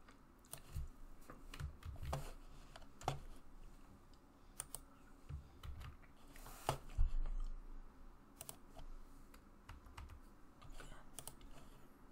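A password is typed on a computer keyboard: quiet, irregular keystroke clicks in short bursts, close by, with a faint background hum.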